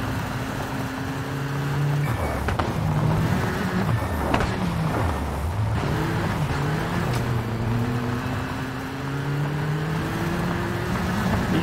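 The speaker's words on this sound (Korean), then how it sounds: "인프레자 엔진 소리" Subaru Impreza rally car engine in the WRC5 racing game, a continuous droning engine note rising and falling with gear changes, steady and fairly loud throughout with a voice talking over it at times.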